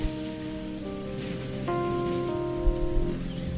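Rain sound effect heard while driving, a steady hiss of rain on a surface with scattered drops and a few soft thumps, mixed under sustained musical tones and no talking.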